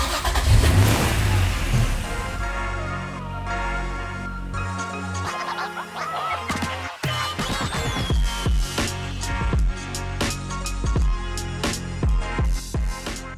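A supercar with suspension tuning linked to Ayrton Senna fires up and revs hard, its engine roaring close and loud, then dropping back before a run of sharp, repeated throttle blips and pops.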